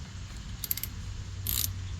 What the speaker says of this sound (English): Go a little bit with my ratchet.